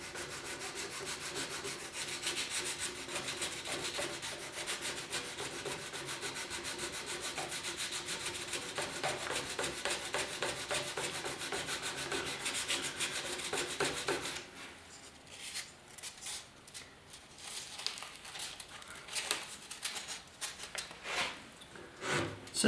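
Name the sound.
sanding plastic Porsche 911 decklid grill with 220 grit sandpaper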